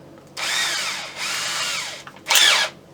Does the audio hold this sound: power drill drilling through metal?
yes